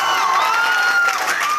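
An audience at a Smart Value program event cheers and shouts together, a loud, continuous wash of voices with whoops and yells and no single speaker standing out.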